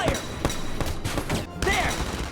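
Rapid bursts of gunfire from a Valkyria Chronicles 4 battle, dense volleys crackling across the whole clip with short gaps, mixed with game sound effects and voices talking over the shooting.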